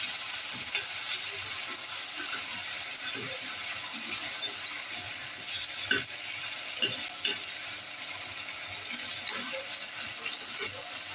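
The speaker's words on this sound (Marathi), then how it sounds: "आता आपण याच्यामधले अर्धे प्रॉन्स याच्यामध्ये फ्राय करून घेऊया. हे व्यवस्थित परतून घेऊया." Prawns fry in a pan, giving a faint, continuous sizzle with occasional soft stirring taps throughout.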